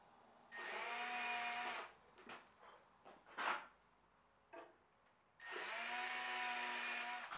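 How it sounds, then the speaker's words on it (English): Two sustained bursts of a power drill whirring as it bores pilot holes in a guitar amp cabinet, each a second or more long, with scattered clatter and handling noises between them. "drill a couple pilot holes"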